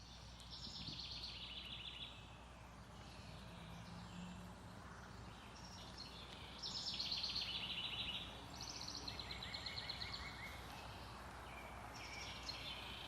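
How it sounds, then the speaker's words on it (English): Birds sing in woodland, faint clusters of high chirps and trills coming and going over a quiet background hush. "And then I just stopped and I listened to the birds."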